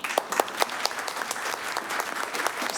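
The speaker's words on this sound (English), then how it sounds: "An amazing applause for Chief Patton, one of many during that township board meeting." Enthusiastic applause from a crowd at a township board meeting honoring a retiring police chief, steady dense clapping with a few sharper claps standing out, moderately close and continuous throughout.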